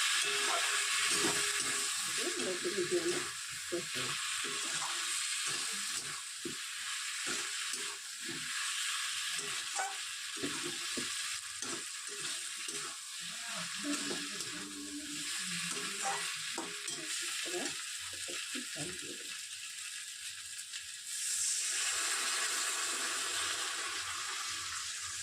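New potatoes being stirred with spices in a hot frying pan, steady sizzling with repeated scraping stirs throughout, close and continuous with no talking.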